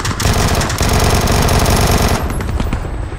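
Rapid automatic gunfire blasts at an airdrop in a video game, a loud, dense stream of shots close up that slightly thins out toward the end.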